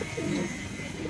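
A pigeon coos softly in a short low, rounded burst, close and alone, with steady background noise underneath.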